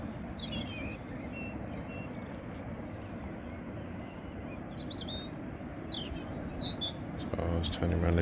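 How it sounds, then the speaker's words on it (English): Steady rolling sea wash on a Cornwall beach fills the background, with faint, scattered birdsong chirps above it and a slight swell in level near the end. "Listen to that sea and the birds."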